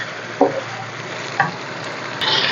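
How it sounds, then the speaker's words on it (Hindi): Garlic, ginger and green chili paste fries with chicken in a pan, giving a steady sizzle broken by a couple of short stirring scrapes, close and fairly loud, without speech. "अब इसको चिकन के साथ हम भूनेंगे।"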